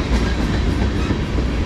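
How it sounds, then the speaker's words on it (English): A CSX manifest freight train rolls past close by, a loud steady rumble of railcars with rhythmic clickety-clack from the wheels and no voices. "I don't think the train's gonna hang on."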